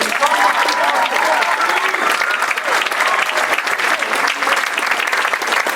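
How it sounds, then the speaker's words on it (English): An audience at a gala claps in a dense, sustained round of applause, loud and close. "Let's give them a round of applause."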